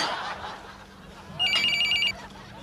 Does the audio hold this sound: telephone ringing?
yes